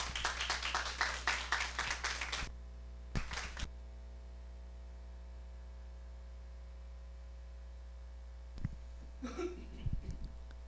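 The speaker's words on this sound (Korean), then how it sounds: "큰 박수로 맞이해 주시기 바랍니다." A small audience at a morning business seminar claps briefly to welcome a speaker, a short burst of applause at the start with a few scattered claps after, over a steady electrical hum, then a voice near the end.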